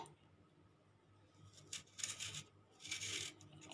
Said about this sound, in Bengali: এরকম চামচের সাহায্য নিয়ে আস্তে আস্তে এরমভাবে পটলের দানাগুলো বের করে নেব